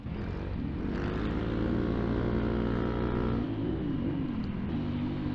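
A motorcycle engine hums under the rider in congested city traffic, with tonal drone shifting as it slows and picks up, moderate and steady with no talk.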